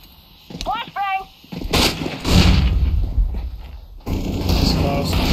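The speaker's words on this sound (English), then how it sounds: "Flashbang!" A flashbang grenade goes off in a Counter-Strike game with a sudden loud burst and a rushing, ringing aftermath. Gunfire-like booms and a shouting voice come before it.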